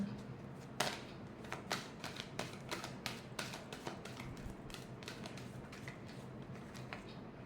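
Tarot cards being shuffled by hand, a long run of quick papery riffles and flicks with soft irregular clicks, close and fairly quiet, with no talking.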